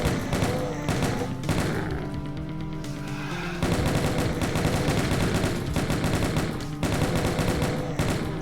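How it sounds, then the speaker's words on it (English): Chaingun in Doom 2: TNT Evilution, Level 20 Central Processing, firing in a dense, unbroken rapid stream of shots that stays loud and steady throughout, with brief shifts in the mix of enemy fire. "Then I'm gonna get the chain gun back out."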